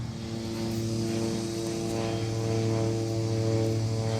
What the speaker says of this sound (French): ça c'est un avion qui passe